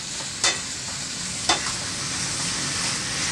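Bone-in meat sears with onion, garlic and ginger for an aubergine curry: a continuous, even sizzle broken by two sharp utensil knocks early on, with no talking.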